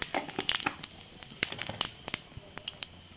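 Whole cumin seeds drop into hot mustard oil for a Bengali okra-and-yogurt dish, giving a quiet scatter of sharp crackles and pops that come in irregular bursts over a faint hiss.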